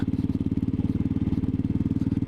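Royal Enfield Classic 500 motorcycle being ridden over a mountain pass, a loud, close, steady thumping single-cylinder engine beat with an even rapid rhythm, no voices over it.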